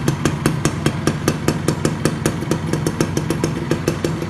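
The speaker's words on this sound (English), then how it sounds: "Motor dalam keadaan hidup tau." A Suzuki Best RR110 motorcycle engine idles close by, a loud, steady, rapid putter of regular pulses with no voices over it.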